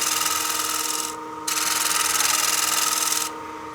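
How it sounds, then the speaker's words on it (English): A bowl gouge cuts on a lathe to clean the wax layer off the rim of a wooden bowl. It gives a steady, close, scraping hiss that breaks off briefly and then resumes before easing at the end. "So I'm going to clean up my rim a little bit, get rid of that wax layer"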